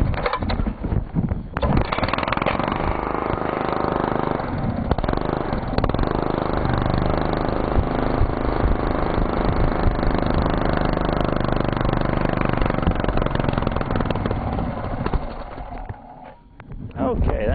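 An engine runs steadily on gas from a charcoal gasifier reactor while the charcoal is being lit, a loud continuous droning rumble with roughness throughout, dipping briefly near the end.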